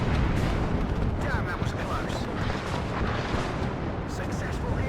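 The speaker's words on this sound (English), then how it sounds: "here comes in a MiG-27 with cluster" In the WARNO war game, a MiG-27 drops cluster bombs, setting off a dense rumble of overlapping blasts and crackling detonations that stays loud and continuous from start to finish.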